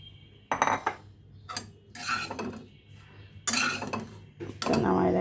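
A frying pan is rinsed and handled in a home kitchen, with several loud bursts of metal clanking, scraping and splashing water close up, separated by brief lulls and quiet handling noises.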